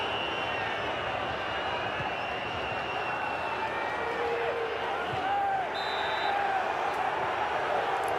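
A football stadium crowd in a German cup quarter-final roars in a sustained, loud appeal for a handball, a dense wall of noise with whistles and shouts rising over it throughout.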